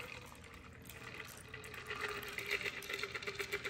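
A homemade shrub cocktail strained into a glass makes a soft, close trickle of pouring liquid that swells slightly toward the end, with no talking.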